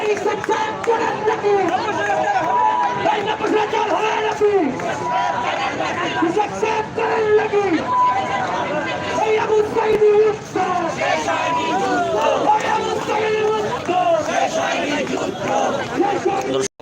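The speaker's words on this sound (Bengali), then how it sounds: "এসরাকের বিরুদ্ধে কিন্তু একটি মিছিল শুরু হয়ে গিয়েছে" Dense crowd of marchers at a broom protest march against BNP leader Ishraque, with continuous chanting and shouting voices, loud and close, sustained throughout without pause.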